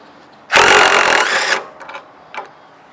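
Power drill working on a suspension nut of a 2015 Mustang, one loud whirring burst of about a second, followed by a few short fainter mechanical rattles.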